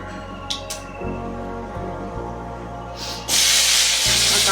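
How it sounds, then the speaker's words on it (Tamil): Mustard seeds spluttering in hot oil while making sambar, with a low steady hum and faint crackle at first, then a loud, close, hissing sizzle in the final second. "இப்போ கடுகு வெடிச்சோன்னே"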